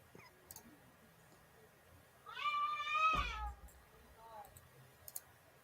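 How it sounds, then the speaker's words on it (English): A cat lets out a single drawn-out, rising and falling yowl of about a second, fairly close in an otherwise quiet room, followed by a brief fainter meow-like trailing cry. "Well, that sounded like a pissed off cat."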